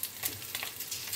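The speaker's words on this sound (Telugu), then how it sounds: "మంచిగా కొంచెం ఫ్రై అవ్వాలి ఆయిల్లో" Green chillies fry in hot oil with a soft, crackling sizzle, faint and close, with small bursts of spatter over a brief moment.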